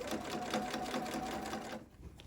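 A sewing machine stitches quilt binding with a fast, steady mechanical whir that runs close and loud for about two seconds, then cuts off.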